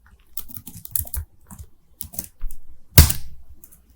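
Keystrokes on a computer keyboard as a terminal command is entered, a quick irregular run of close clicks ending in a single louder key press.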